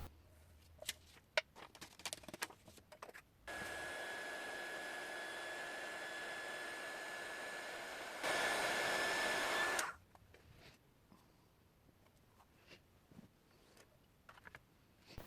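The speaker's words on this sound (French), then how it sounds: "j'éloigne le pot avant de faire chauffer tout ça au heat gun" Heat gun melting embossing powder on a handmade card, a steady whooshing blower that runs for about six seconds, then grows louder for a short stretch before stopping, with light crafting clicks and rustles before and after.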